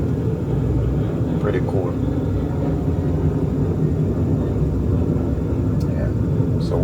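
Airplanes pass by close to an airport runway, making a steady low rumble that lasts the whole clip while someone talks over it.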